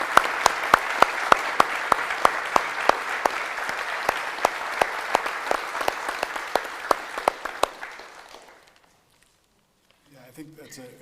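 Audience applause at a university State of the University address, a steady wash of clapping with sharp individual claps standing out, running about eight seconds before stopping, followed by a short stretch of quiet and a voice resuming.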